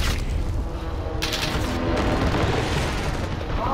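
Heavy gunfire and booming blasts fill a Call of Duty: Modern Warfare match, a dense, loud, continuous wash of shots with a few sharper bursts and no clear pauses.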